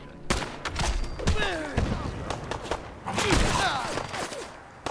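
Gunfire in Fallout 4 during a fight with gunners, sharp shots and short bursts close by, mixed in with a player talking.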